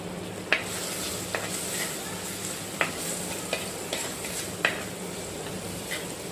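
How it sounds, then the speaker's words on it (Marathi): Onion sautéing with red chilli powder and spices in a pan, stirred with a spoon: a steady sizzle runs throughout while sharp metallic scrapes and taps of the spoon against the pan sound every second or so, close up with no talking. "आता पुन्हा आपण चमच्याने हे व्यवस्थित परतून घेऊया।"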